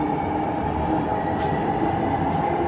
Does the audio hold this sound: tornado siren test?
no